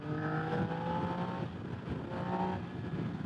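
A Yamaha XSR900 motorcycle with an Akrapovic exhaust rumbles deep and steady, its engine tone rising in two swells as it revs, close by and moderately loud.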